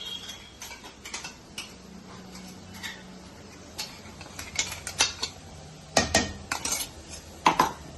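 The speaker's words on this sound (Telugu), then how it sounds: "జస్ట్ 1 మినిట్ పచ్చివాసన పోయే వరకు వేయించుకుందాం అండి" Spice powder dry-roasting in a pan for bitter gourd stuffing, stirred with a utensil: irregular metallic scrapes and clinks, sparse at first and growing busier and louder toward the end, close by with no talk.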